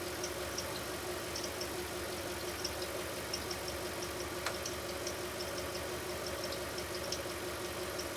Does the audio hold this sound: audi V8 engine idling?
yes